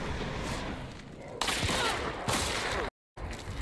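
Rapid loud shots from a Derringer firing penny shot in Hunt: Showdown, arriving in two dense bursts with an abrupt brief cut to silence near the end before more gunfire resumes.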